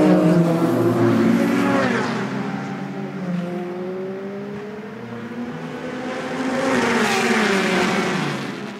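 A Porsche GTE Pro race car, the Team Manthey 91, at the Nurburgring 6 Hours endurance race, its engine roaring loud and close, pitch rising and falling as it drives past, with no talk.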